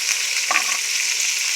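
Chili powder sizzles in hot oil in a frying pan, a steady bright hiss with a brief stirring scrape partway through, close and alone.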